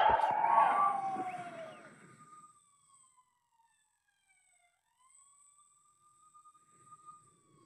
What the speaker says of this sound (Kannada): ಏನು ಪೊಲೀಸ್ ಗಾಡಿ ಸೌಂಡ್ ಎಲ್ಲ ಕೇಳಿಸ್ತಾ ಇದೆ?